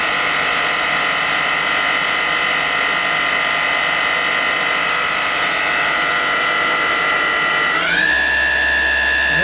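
A KSI SQC-38 CNC Swiss-type lathe sub spindle spins at 2,000 RPM from about four inches away, giving a steady, loud mechanical whine with layered tonal harmonics that shifts pitch upward near the end.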